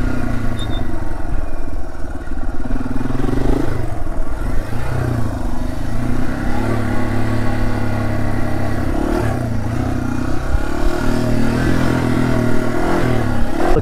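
Yamaha TW200 motorcycle engine while riding, a steady, loud mid-pitched drone with small rises and falls in revs, close and continuous with wind rush.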